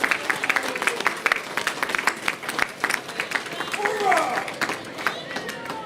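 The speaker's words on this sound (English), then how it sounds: "Give your neighbor a round of applause." A big audience at a New York precinct community event applauds, with scattered claps and cheering voices, while crowd chatter and speech run through the applause.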